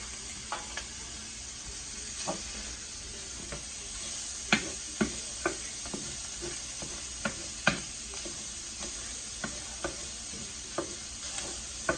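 Sausage browns in a pan with a steady broadband sizzle, broken by scattered sharp pops and spatters and a few faint scrapes of stirring, moderately loud and continuous with no talking.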